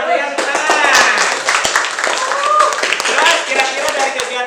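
A school class claps hands at the end of a physics lesson on hydrostatic pressure, with scattered individual claps and taps under excited children's chatter and voices.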